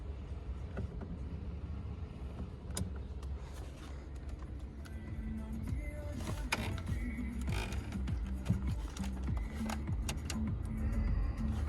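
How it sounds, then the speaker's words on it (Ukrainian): The electric side mirrors of a Volkswagen Golf whir and click as they adjust. The motor sound is faint and rises in a few short bursts over a steady cabin rumble. "Дзеркала у нас працюють."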